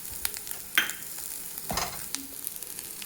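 Grated coconut and sugar are stirred in hot ghee, a soft sizzle broken by a few sharper scraping strokes of the spoon, fairly quiet and close, with no talking.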